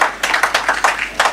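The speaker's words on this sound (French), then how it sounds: "Applaudissements, s'il vous plaît." An audience at a hotel inauguration speech breaks into applause, close, loud clapping with several distinct bursts over a brief moment.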